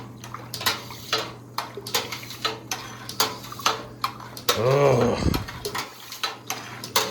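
Beer wort being stirred in a pot while it cools with a water-fed chilling coil, giving repeated knocking and clinking taps in an irregular rhythm over steady running water, with a brief vocal grunt partway through.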